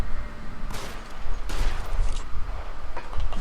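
Gunfire in L.A. Noire, a rapid series of sharp shots and cracks from a firefight, loud and mid-distance, with several distinct bursts over a busy game background.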